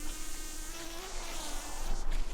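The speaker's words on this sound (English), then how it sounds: "I think I've got a bee in my microphone." A honeybee from a hive check buzzes right against a microphone, making a loud, steady, close-up drone that swells near the end.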